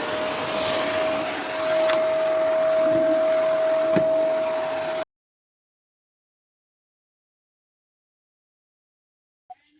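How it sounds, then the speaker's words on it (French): A household vacuum cleaner runs steadily for about five seconds with a loud, constant whine and roar, then the sound cuts off abruptly into silence, broken only by a faint click near the end. "On va passer l'aspirateur."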